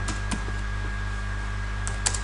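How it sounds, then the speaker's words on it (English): Sparse keyboard typing on a computer, a few quick key clicks near the start and end over a steady low hum, fairly faint and with no talking. "So I'm just going to type in here"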